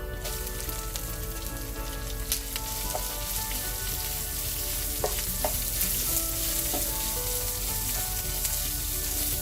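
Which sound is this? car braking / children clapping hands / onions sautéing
onions sautéing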